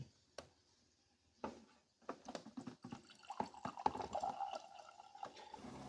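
Filtered water is poured into a hot pan during deer chili cooking, starting with a few sparse clinks and drips, then a faint, steady trickling pour with splashes that builds over several seconds, with no voices.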